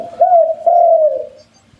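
A dove-like cooing bird call played through a bird-luring loudspeaker, two loud, close, smooth coos in quick succession, then a quiet fade.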